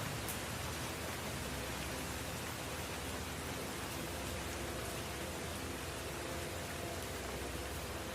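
Heavy rain pours down in Bandung, a dense, steady hiss that never lets up, fairly loud and continuous with no voices over it.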